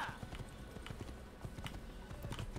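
Horse hooves clip-clop in Assassin's Creed, a steady, fairly quick patter of soft thuds over a faint ambient bed, heard alone without talk.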